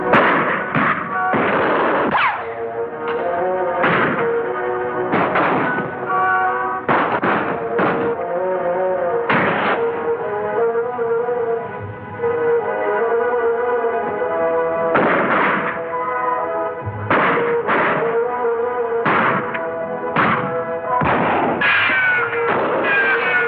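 Repeated gunshots ring out in a western Lone Ranger TV episode, loud sharp bangs coming in irregular clusters over a steady tonal background.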